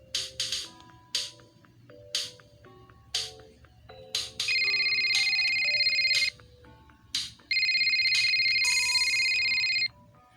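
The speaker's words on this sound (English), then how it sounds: "my phone rings" A phone rings inside the video game Spellbound, starting with short repeated electronic chirps and moving into two long, loud, steady ringtone bursts, clear and close with no talking over it.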